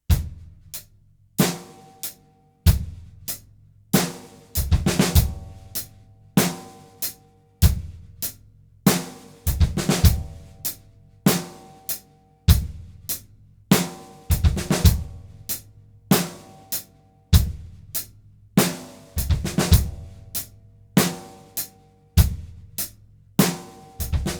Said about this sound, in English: we're going to use the 5-stroke roll, and we're going to start on the and after 4.